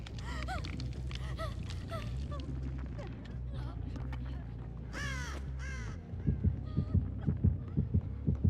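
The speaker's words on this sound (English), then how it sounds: "Yeah, we're hearing heartbeats." Rhythmic thumping heartbeat pulses from the Dead by Daylight video game, starting about six seconds in under ongoing game sounds, cawing crows and a talking voice.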